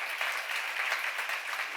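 A church congregation at a seminar applauds, producing a brief, steady burst of dense clapping at moderate loudness without any talk over it.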